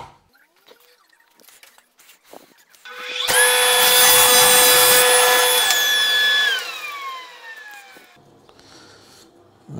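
A power saw cuts a wooden piece for a workbench sliding dovetail, one loud, sustained whining cut lasting a few seconds before winding down, with quiet handling noises around it and no talk.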